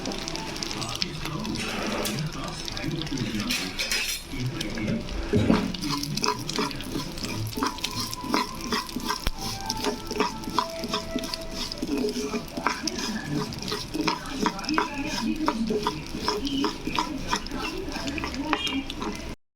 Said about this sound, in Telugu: ఇంకో స్టవ్ మీద ఇంకో బాన్ ప్యాన్ పెట్టుకుని అందులో గసగసాలు ఫ్రై చేసుకోవాలి నెయ్యి వేసుకుని